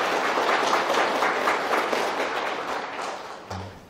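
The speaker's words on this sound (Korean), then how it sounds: "우리 환영의 박수 한번." A church congregation claps to welcome a priest at a Christmas night Mass, the applause starting full and steadily tapering off over a few seconds, with a faint low thump at the close.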